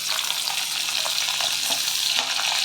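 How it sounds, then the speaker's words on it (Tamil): Chopped onions sizzle in hot oil in a pan, making a constant, even hiss heard up close with no voices over it. "இப்போ இந்த வெட்டி வச்ச வெங்காயத்தை போட்டுடுறேன்."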